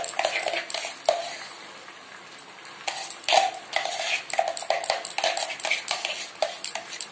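A spoon scrapes and taps ground urad dal batter out of a mixer jar in a kitchen, giving repeated close metallic clinks and scrapes in an uneven rhythm with brief quieter pauses.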